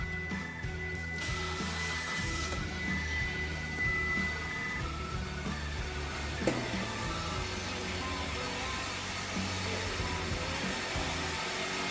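A 2009 Mitsubishi Outlander engine idling after a belt repair, a steady close mechanical hum with faint whine and a single brief knock midway, no voices.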